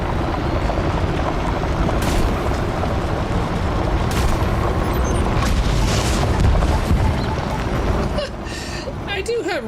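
Rumbling blasts and booming debris from a rocket explosion in Elite Dangerous: Odyssey fill a dense, loud stretch with sharp hits near two, four and six seconds, while players talk over it before it drops off.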